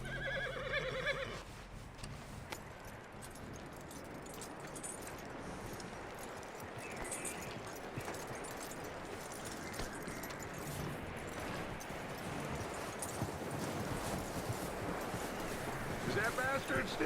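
Horse hooves clip-clop steadily with occasional neighing from a horse in the Red Dead Redemption 2 video game, continuous and fairly close over wind-like ambient noise, with a voice speaking at times.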